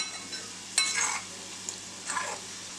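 Lemon pickle masala with curry leaves bubbles and sizzles in hot oil, a soft steady hiss rising in a few brief louder bursts, quiet and close with no talking.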